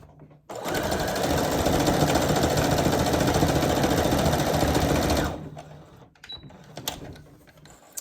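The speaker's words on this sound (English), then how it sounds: "My sewing machine is rocking at the moment because it's on different levels of the table" A sewing machine stitches together fabric scraps for crumb piecing, rocking slightly on an uneven table; a steady, loud motor whir runs for about five seconds, then stops abruptly, leaving quiet room noise and small handling sounds.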